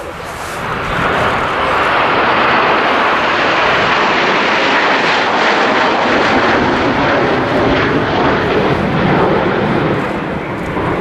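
Loud, steady roar of Frecce Tricolori Italian Air Force aerobatic jets passing close overhead at an air show, a broad rushing engine noise sustained throughout with no break.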